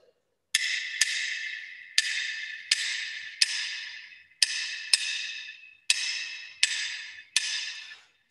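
Sharp wooden clave strikes play a 2-3 clave pattern in a Latin jazz setting, bright dry clicks each ringing out briefly, close and alone, repeating in groups of two and three.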